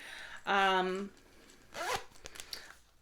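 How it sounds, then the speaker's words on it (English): A small zipper on the back pouch of a wallet is pulled open in one quick, close zip, followed by softer handling rustles and a second brief zip-like rasp. "the back has a little zipper pouch, like if you wanted to keep some change or something in there"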